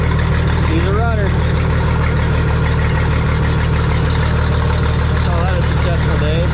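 A rare old tractor, model G704, idles loud and close with a steady low engine rumble throughout, while someone talks briefly over it.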